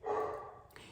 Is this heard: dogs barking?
yes